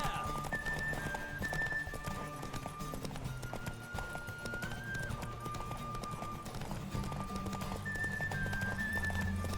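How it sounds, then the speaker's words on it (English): Horse hooves pounding at a gallop during a race in The Witcher 3, a steady rapid clip-clop running throughout under game music and occasional whinnies, with a player talking over it. "Don't spare the horse!"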